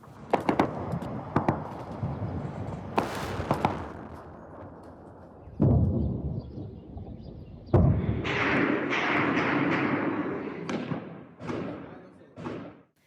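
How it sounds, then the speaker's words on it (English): Sharp, loud bangs and heavy thuds of tank fire and gunfire in Khartoum, Sudan, go off irregularly from fairly near, some in quick bursts, between quieter stretches of background noise. "Sounds of tank fire and loud shooting filled the air in Khartoum."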